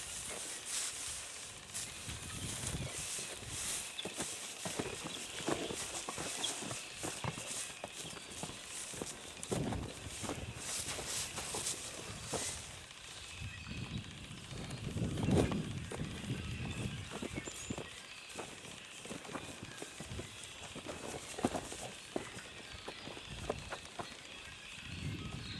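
Hays Converter cattle move about on a farm, with a steady, uneven patter of hooves and rustling across the ground that continues throughout at moderate, slightly distant loudness.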